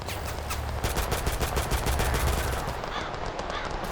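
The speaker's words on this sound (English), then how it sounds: "Please stop firing your weapon." Dense, sustained automatic gunfire from several weapons in the war game Total Conflict: Resistance, loud and continuous with rapid overlapping bursts and no talking over it.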